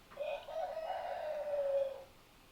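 A chicken crows outdoors, one drawn-out call of about two seconds that is clear and moderately loud, with no voices over it.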